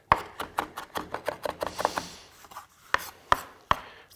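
A knife chops fresh parsley on a board in a quick, steady run of crisp, close taps, then slows to a few separate chops.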